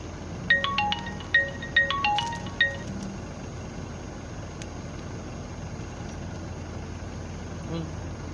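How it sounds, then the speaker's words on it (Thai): A mobile phone's melodic ringtone plays as a quick series of bright electronic tones over a low engine and fan hum inside a vehicle, then stops after a few seconds, leaving only the steady background drone. "เสียงโทรศัพท์เขา"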